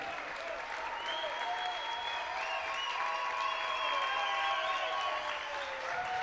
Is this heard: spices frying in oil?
no